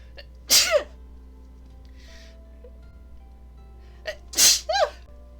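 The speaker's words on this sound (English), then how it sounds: "I gotta sneeze! Twice!" Two loud sneezes close to the mic, a few seconds apart, each with a sharp breathy burst and a nasal whine trailing off.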